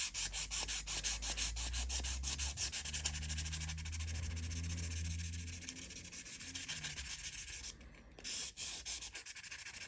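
1000 grit sandpaper is rubbed back and forth over the metal contacts of a controller, giving rapid, close scratchy strokes in a steady rhythm with brief pauses near the end.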